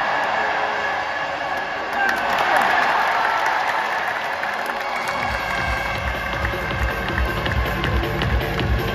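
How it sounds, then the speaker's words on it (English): Stadium crowd at an India vs Australia cricket match at Greenfield Stadium, Trivandrum, claps and cheers in a broad roar, with a voice talking over the noise and a low rumble joining partway through. "So let's keep clapping."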